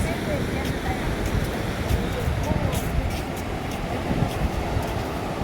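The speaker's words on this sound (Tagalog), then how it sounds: "The sound of the waves." Continuous roar of surf washing onto Dana Strands Beach, California, a broad steady rush with gusts of wind and no clear pauses between waves.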